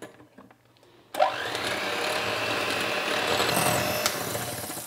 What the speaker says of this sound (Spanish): vamos a batir hasta que la crema esté espesa